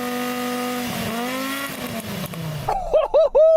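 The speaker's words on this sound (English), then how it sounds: "Go on, rev up the rally car." An Audi Group B rally car engine roars loudly, its pitch sweeping up and down, then breaks into sharp, choppy revs and pops near the end.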